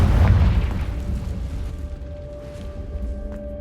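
In the game Hogwarts Legacy, a Confringo fire spell bursts with a deep, booming explosion right at the start, then fades into a rumbling tail with a faint lingering tone, and no one speaks.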